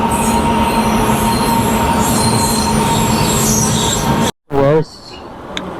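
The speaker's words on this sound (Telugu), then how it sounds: "ట్రైన్ అయితే వచ్చేసింది." A train rolls into a station with continuous loud rumble and screeching wheel squeal, then a brief drop to silence before a faint tail of station noise.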